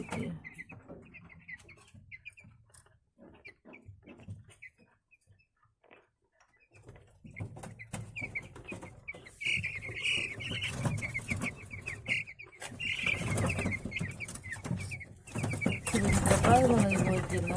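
Day-old broiler chicks, one of them wheezing and sneezing, chirp and peep in a brooder; quiet and sparse at first, then busier, louder chirping with rustling movement in the second half.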